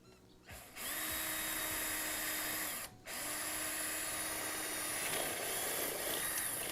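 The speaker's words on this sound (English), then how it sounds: "when we drill, I'm drilling on the very inside edge of this channel" A power drill whines loudly in two sustained bursts, pausing briefly between them, with a steady high motor pitch and grinding as it bores into the inside edge of a sliding glass door frame channel.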